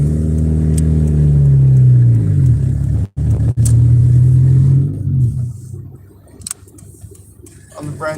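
A car drives past close by while taking a corner wide, its engine rumbling loudly and rising then falling as it passes, before fading into quieter street noise.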